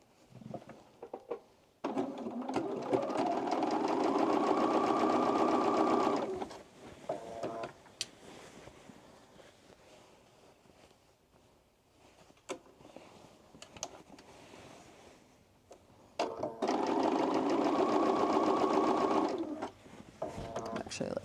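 Sewing machine stitching a seam on an oversized blazer, two loud sustained runs of rapid stitching separated by a quieter pause with handling noises.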